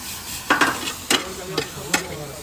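Garlic fries in olive oil in a pan for Spanish garlic shrimp, with a steady close sizzle broken by several short scraping stirs of a utensil.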